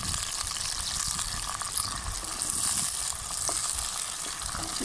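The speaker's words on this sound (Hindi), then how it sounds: "अब इसमें हम डालेंगे प्याज, सब्ज़ मिर्च, टमाटर।" Chopped onion, green chilli and tomato sizzling in hot oil in a pan, a steady close hiss and crackle with no talk.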